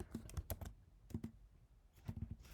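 Bursts of computer keyboard typing in three quick clusters, separated by brief pauses, close and moderately loud with no talking.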